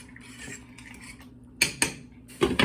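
Noodles cooking in a pot are stirred with a utensil, giving sharp metallic clinks and scrapes against the pot in short bursts, close by over a quiet background.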